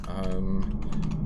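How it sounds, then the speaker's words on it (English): A computer keyboard typing out a command in a Linux terminal, a quick run of crisp clicking keystrokes, close and brief, with a voice speaking over it. "we could just use a shortcut, but I'll type out the whole thing."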